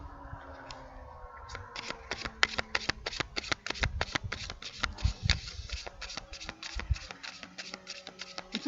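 Tarot cards are shuffled by hand in a quick stream of crisp, close riffling flicks that continues for several seconds.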